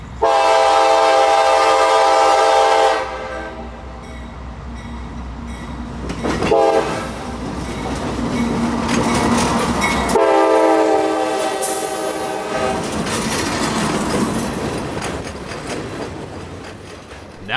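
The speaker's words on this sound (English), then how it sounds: "the good old 7588 and 3148 pull an empty B371 southward for the mine at South Fort Meade" Freight locomotives 7588 and 3148 haul an empty train southward toward a mine at South Fort Meade; a loud horn blast opens, followed by a long, heavy rolling rumble with clickety-clack as the train passes.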